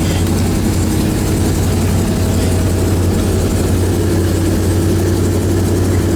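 A 1969 Corvette C3 big block V8, just started after sitting nine years, idles loudly and close, with a deep, steady, lopey rumble throughout.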